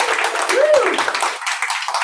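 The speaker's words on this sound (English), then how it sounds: "Huge round of applause for Boo Mitchell." An audience clapping and cheering for guest Boo Mitchell at a launch event, steady applause with whoops and a voice rising over the crowd.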